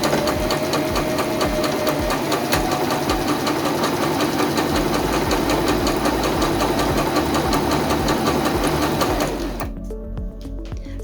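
Singer M1250 sewing machine stitching the side of a buttonhole, a fast, steady mechanical whir and tapping of the needle running close for about nine seconds before stopping abruptly into near silence.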